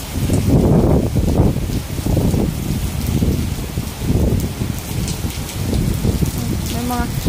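Heavy typhoon rain pours steadily in Macau while strong wind gusts surge and fade in waves, loud and close to the microphone.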